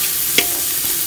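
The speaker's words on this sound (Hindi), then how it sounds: "थोड़ी सी हल्दी और 1/2 टेबल स्पून के अराउंड लाल मिर्च और अच्छे से मिक्स कर लें।" Salt, turmeric and red chilli being mixed into green chickpeas and paneer in a low-oil pan, a steady close sizzle with one sharp scrape of the spoon and a faint second touch.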